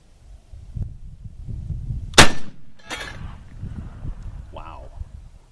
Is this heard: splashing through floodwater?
no